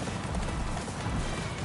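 Steady galloping horse hoofbeats in the video game Attack on Titan 2, a dense continuous clatter at even loudness, with no voices.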